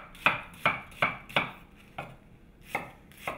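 A knife roughly chopping an onion on a board, seven crisp, evenly spaced thuds at a moderate pace, close and clear with no talking.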